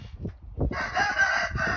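Dual-purpose chickens crow and cluck close by, with a burst of clucking followed by a loud, sustained rooster crow.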